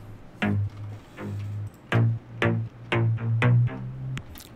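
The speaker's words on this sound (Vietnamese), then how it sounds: "tiếng bass này là cái tiếng Desert Chords Plucky" The Desert Chords Plucky synth bass preset from the Desert Serum sound bank, part of a slap house/deep house track, plays a sequence of short plucky notes with deep low tones under bright attacks, in a steady syncopated pattern with no voice.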